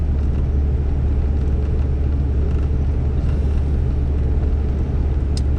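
Inside a vehicle cruising along a Polish road toward Warsaw, a deep, constant engine and road rumble fills the cabin, steady and unbroken with no voices.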